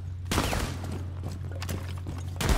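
Gunfire in the Rainbow Six Siege video game, a rapid burst of loud automatic shots followed by a couple of isolated cracks and another burst at the end, over a low steady hum.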